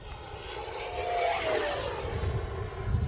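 A Viper Jet RC model with a 90mm electric ducted fan runs at full throttle in flight, a steady loud rushing whine with a rising then falling tone as it passes fairly close, no talk over it.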